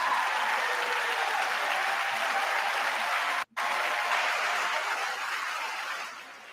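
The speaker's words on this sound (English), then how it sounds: "They're clapping and they're happy, it looks like." Audience applause fills a chamber during a State of the Union address. It is steady, dense clapping from a large crowd, broken by a brief cut midway, and it fades slightly toward the end.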